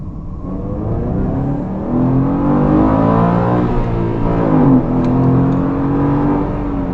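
Subaru Impreza 2.0 with a 160 HP engine, a 2007 model, accelerating through a corner on a damp city street at night. Steady engine note climbs in pitch from inside the car, loud and continuous with no talk.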